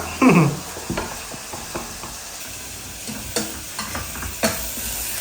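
Masala sautéing in a pan in a home village-style kitchen, with a soft sizzle under a few scraping stirs and clacks of a spoon, one louder burst near the start, close and fairly quiet, no talking.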